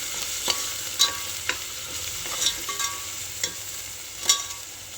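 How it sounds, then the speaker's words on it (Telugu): Ginger garlic paste sizzles softly in a pan over medium flame while a spoon scrapes and taps the metal every second or so. "దీంట్లో పచ్చి వాసన పోయేంత వరకు ఫ్రై చేసుకోండి."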